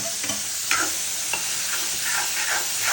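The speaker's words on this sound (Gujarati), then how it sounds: "હવે થોડી વાર આપણે એને સાતળશું।" Onions and tomato puree sautéing in a pan for a dum aloo dish, a steady soft sizzle with faint crackles and a few brief stirring scrapes, close and alone without voices.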